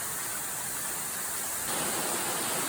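A waterfall pours down from high above on a scenic hiking trail, a steady broadband roar of falling water that holds evenly throughout and swells slightly louder in the last second, with no voices.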